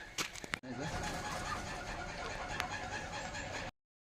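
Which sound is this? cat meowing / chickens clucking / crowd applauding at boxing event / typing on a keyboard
chickens clucking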